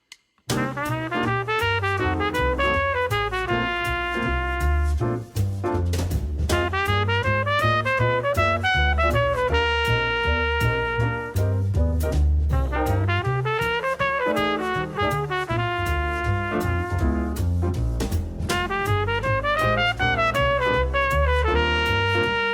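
A sustained keyboard passage of dense, shifting tense chords and melodic lines using altered tones over dominant chords, played continuously without pauses and with no talking.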